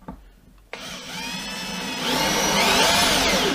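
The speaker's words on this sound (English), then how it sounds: "We're on screwdriver, torque setting 3." A cordless drill driver set to screwdriver mode, torque setting 3, drives a single-thread woodscrew: a sharp start, then a steady whining motor that rises in pitch and load over a few seconds, close and loud.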